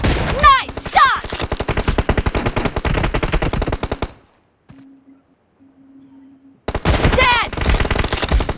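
Rapid, loud gunfire from PUBG Mobile in long automatic bursts fills the stretch before and after a near-silent gap, which carries a faint tone, with sharp shots close and continuous.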